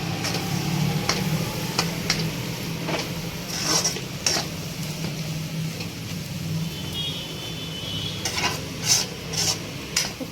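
Chili powder and salt fry with a leafy greens stir-fry in a pan, a continuous low sizzle under repeated scraping and tapping of a spoon against the pan, with a brief clustered flurry of clinks near the end.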